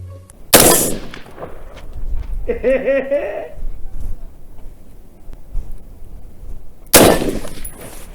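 Two sharp AR-15 rifle shots crack about six seconds apart at a shooting range, each loud and broadband, with a short burst of distant voice-like sound between them.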